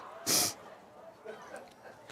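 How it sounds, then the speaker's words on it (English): A football commentator in a chilly outdoor press box gives a single sharp sniffle up close, followed by quiet breathing and faint background noise. "Excuse our sniffles."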